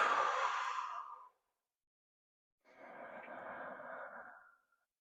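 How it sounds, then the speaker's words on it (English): Two deep belly breaths taken during a posture exercise, each a long, soft airy exhale lasting over a second, separated by a silent pause, close and fairly quiet with no talking. "Couple big belly breaths."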